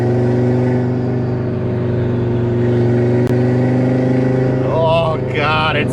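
An Audi RS3 with a TTE 700 turbo making about 555 wheel horsepower pulls hard with a loud, steady engine drone heard from inside the car, rising in pitch near the end.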